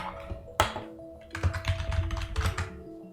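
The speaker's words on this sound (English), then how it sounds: "You type your stuff up here." Keys tapped in short bursts on a computer keyboard while text is entered into Krita's G'MIC filter panel, the clicks close and fairly quiet over a low background hum, with one sharper knock near the start.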